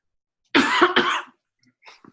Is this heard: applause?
no